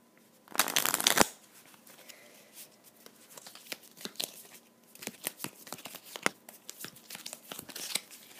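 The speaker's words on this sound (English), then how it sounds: "I'm going to have to shuffle this deck again" A deck of game cards is riffle-shuffled up close in one loud burst near the start, followed by quieter card handling, taps and shuffling sounds for several seconds.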